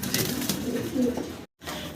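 Fancy pigeons, including a white-barred mond, cooing softly in a loft amid low background murmur, with a brief silent gap near the end.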